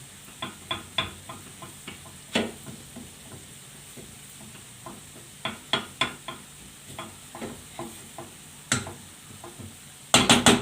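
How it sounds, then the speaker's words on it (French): Flour being stirred into a spinach quiche mixture, giving a series of light, irregular scraping taps of a utensil against a bowl, near and fairly quiet, ending in a louder clatter, with no talking. "Je mélange."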